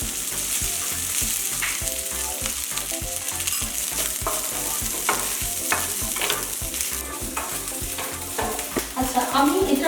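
Rice tossed and stirred in butter in a pan for a paneer shashlik sizzler, a steady buttery sizzle broken by rapid, rhythmic scraping and clacking of the spatula, close and loud with no talking.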